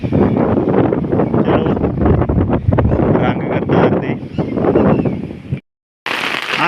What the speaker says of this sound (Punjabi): ਹਵਾ ਵੀ ਬਹੁਤ ਚੱਲ ਪਈ